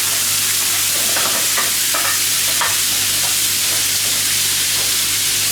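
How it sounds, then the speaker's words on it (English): Ingredients for stock brown in a very full pan over a hot flame, giving a loud, constant dry sizzle and frying crackle with scattered sharper spits and pops, and no talking. "I'm still coloring and browning, and there's no water being released"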